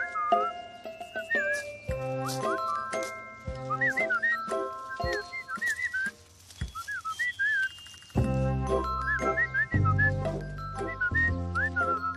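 A person whistles a bright, bouncy tune in short repeated phrases over a steady backing melody, growing fuller and louder toward the end.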